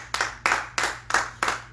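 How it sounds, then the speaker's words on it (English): A church congregation claps in praise to the Lord, five sharp, evenly spaced claps landing in a steady unison rhythm, moderately close. "Let's give the Lord a hand clap of praise."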